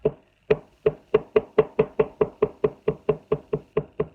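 A steady series of sharp, hollow taps, about four per second, as paint is dotted onto canvas, close and crisp, each one short with a quick decay and silence between.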